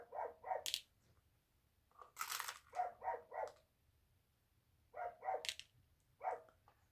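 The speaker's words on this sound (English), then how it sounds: "Can you hear my dog?" A dog barks in short bursts of two or three, close by, with brief quiet gaps between the barks and no talking.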